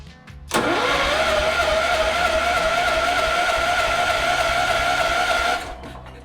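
A Wheel Horse 314H garden tractor engine inside a workshop catches and runs: a sudden loud onset becomes a steady, droning roar for about five seconds, then cuts off abruptly, with no talk.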